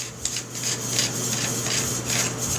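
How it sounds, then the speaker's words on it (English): Someone unscrews the loading tube end cap of a Stevens 320 shotgun, producing close, rhythmic metallic rubbing and rasping of threads turning, repeated in short strokes without any talking. "we'll unscrew the loading tube end cap"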